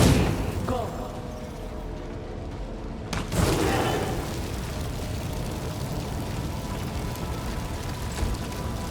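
A detonation in the Pathfinder WOTR video game: a sharp boom bursts out about three seconds in, followed by a dense rumbling roar that lingers over low background noise, with brief talk mixed in.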